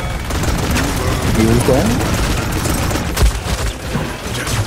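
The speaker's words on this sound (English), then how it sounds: "Trying to avoid the gunshot." Gunfire in the team shooter game Paladins, a loud, dense stretch of rapid shots and impacts running through the whole moment while a player briefly speaks over it.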